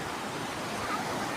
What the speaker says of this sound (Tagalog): wild yung dagat dito kasi may bagyo eh.